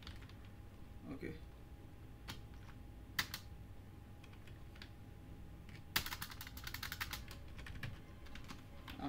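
A computer keyboard clicks as a shell script is typed in short irregular bursts, including one dense run of fast keystrokes, quiet and close with faint creaks between.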